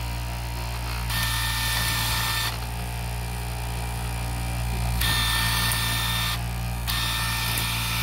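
A powered fabric end cutter runs its sharpening blades in bursts, a steady motor drone joined by loud harsh grinding hiss that starts and stops several times, each burst lasting a second or two.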